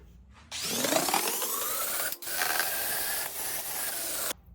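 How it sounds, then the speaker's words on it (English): A wire brush scrubbing the rusty mating surface of a 3000GT control arm gives a loud, steady rasping scour close to the mic, with one short break midway before the brushing resumes and then cuts off. "So I'm gonna go ahead and wire brush this, clean it out"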